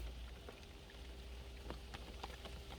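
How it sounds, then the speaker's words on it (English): Rain patters on a van on a hot afternoon, a faint steady hiss broken by scattered sharper drips and taps, with no talking. "Rain."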